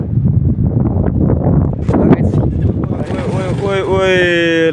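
Strong, gusty wind buffeting the microphone in a small hillside village, a loud continuous roar throughout with a voice speaking over it.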